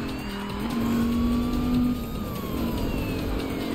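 An Audi R8 engine in the video game Need for Speed Rivals, droning loudly and steadily during a police pursuit, its pitch rising and easing as the car accelerates and holds speed.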